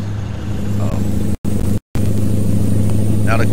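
A Mack Pinnacle truck engine with a Rawhide mod idles and rumbles steadily in American Truck Simulator, a deep low drone that cuts out twice briefly, with a faint voice underneath.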